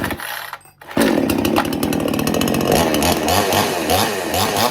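A Dereal Pro chainsaw bursts into life after a brief quiet moment, then runs loud and close with a rough, buzzing engine note and uneven revving.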